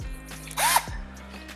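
A short, high whirring burst from a drill spins up and stops within a second, surrounded by faint low mechanical hum.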